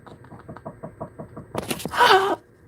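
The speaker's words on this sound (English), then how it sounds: "pecking on the side of my bedroom" A woodpecker pecks a rapid series of sharp, evenly spaced taps against a house's bedroom wall, followed by a brief burst of louder clatter and a squawking call.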